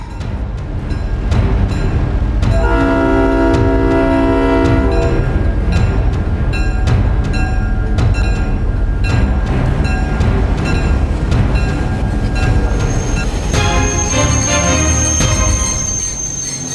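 A train rides along and pulls into a station with a loud rumbling roll, rhythmic clicks over the rails and squealing metallic tones, steady throughout, no voices.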